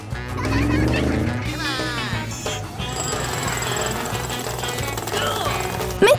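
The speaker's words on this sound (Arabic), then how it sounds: "Hydraulic hammer." A toy hydraulic hammer in a children's alphabet cars game pounds with a steady mechanical rattle that runs loud and continuous, layered with cartoonish music and sound effects, ending in a short bright chime.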